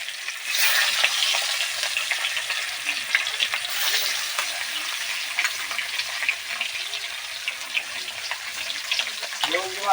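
Bhetki fish pieces, rubbed with salt, turmeric and oil, frying in hot oil: a loud, continuous close-up crackling sizzle with spattering pops throughout, no voices over it.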